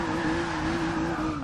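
A Rolls Royce drift build in the Forza 6 video game spins on a mountain track in the Burmese Alps, its tires squealing in a steady sustained screech over engine noise, with no talk.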